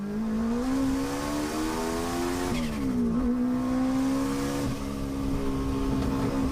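A car engine in the BeamNG driving game revs high and steady, its pitch dipping briefly and climbing again, loud and continuous with no talking over it.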